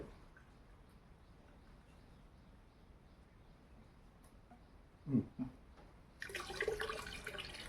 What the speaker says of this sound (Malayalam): 400 മില്ലിയാണ് ഞാനിപ്പോൾ ഇതിനകത്ത് ഒഴിക്കുന്നത്